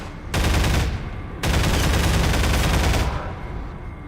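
An automatic weapon fires in Half-Life 2 in two long sustained bursts, the first under a second and the second nearly two seconds, loud and close with a rapid rattling roar.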